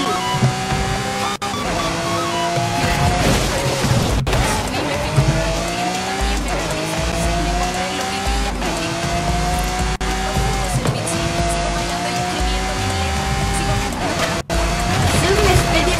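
Race in the video game Forza Horizon with BMW, Lamborghini and Nissan cars: loud, continuous engine roar rising and falling through gear shifts, mixed with tire squeal and occasional brief thumps, over faint talk.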